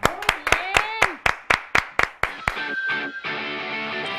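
Studio audience on a Mexican TV variety show claps in a quick, steady rhythm, about ten sharp, close claps over two and a half seconds, then gives way to a softer, busier room sound with background voices.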